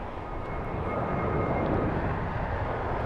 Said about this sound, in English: This was a go-around, was it?